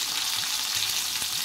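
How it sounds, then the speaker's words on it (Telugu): Tempering spices crackling and sizzling in hot oil for sambar rice, a steady close frying hiss with faint pops and small stirring scrapes, no voices. "అందులో తాలింపులు వేసేసుకుంటున్నాను"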